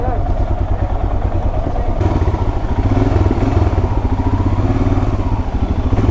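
A Royal Enfield Himalayan 452 motorcycle on the move, its steady, loud, close engine thrum mixed with wind rush and a voice beneath.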